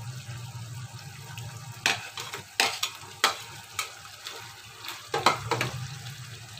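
Tempeh stir-fried in a pan with jengkol for Indonesian sambal, a low steady sizzle broken by several sharp scraping and clattering stirring strokes, close and loud, with no voices.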